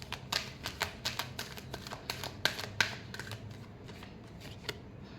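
A deck of tarot cards is shuffled by hand, with a quick run of riffling flutters and taps, about a dozen short bursts close up and quiet.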